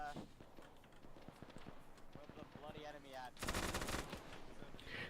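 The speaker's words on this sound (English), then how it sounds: "You will be covered by our own sergeant firing the MG gun." Machine gun fire rattles in rapid rhythmic bursts during a WW2 battle roleplay, with a voice speaking over the shooting and a louder, denser burst of fire near the end.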